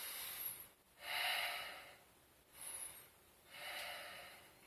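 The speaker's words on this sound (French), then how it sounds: "j'expire." Breath exercise in a health workout session, with four forceful, airy exhales and inhales through the mouth and nose, close and fairly loud, spaced about a second apart with brief pauses between.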